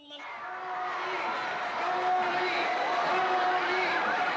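A large crowd at a soccer stadium welcomes President Aquino, a broad roar of cheering and shouting that swells in and holds steady, with whoops rising from the mass of voices.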